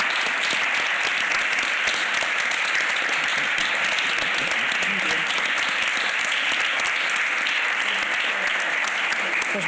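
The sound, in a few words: audience applause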